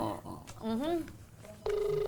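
Partway through a Filipino radio call-in show, a telephone rings with a steady electronic tone near the end, following a rising chime and a host's voice earlier.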